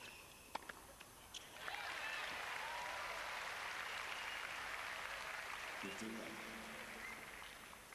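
Tennis crowd applauding during the fourth set of a Henman versus Krajicek match, a broad steady roar of clapping swelling in after a couple of seconds and holding loud, with brief sharper claps and a short tone near the end.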